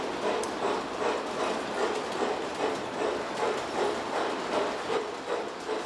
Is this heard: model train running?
yes